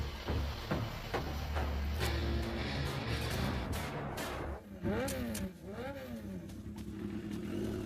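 A motorcycle revs and pulls away as a thief rides off on it, engine noise rising amid a busy scene with shouting and movement, mixed under loud dramatic background sound and voices.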